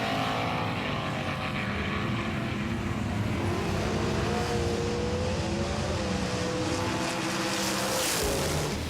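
Race cars roar around Mount Western Raceway in the Road Warriors video game, a continuous loud engine drone with rising and falling pitch as cars pass, no talking.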